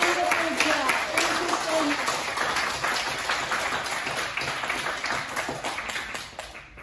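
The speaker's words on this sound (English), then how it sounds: "give them a big round of applause" Audience applause at a community self-defense seminar, a steady crowd clapping that holds for several seconds and tapers near the end, with a voice speaking over it.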